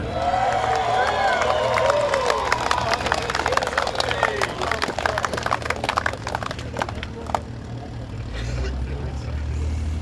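A crowd applauds and cheers at a Super Sedan Australian title race at Albany Speedway. Dense clapping and shouts carry over a low engine rumble, with voices mixed in, and the noise thins toward the end.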